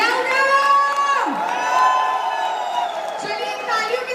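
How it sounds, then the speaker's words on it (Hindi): A large rally crowd cheers and whoops in loud, sustained shouting, voices swelling and overlapping throughout with no clear clapping standing out. "तो दोनों हाथ ऊपर करके जोरदार तालियां बजा दीजिए।"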